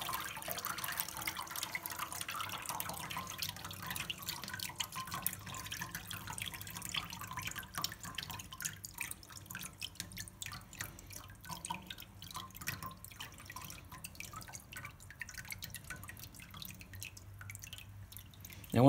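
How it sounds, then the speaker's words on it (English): Water drips and trickles steadily from a paper-making hoop as wet pulp drains, a close, quiet patter of many small drops running on without pause and no voices. "This one, you have to wait a little longer for the water to drain out."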